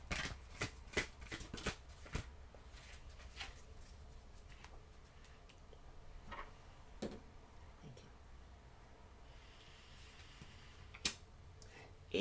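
Tarot cards shuffled and handled at a reading, soft riffling and sharp clicking taps coming in quick clusters at first, then sparser, faint and close.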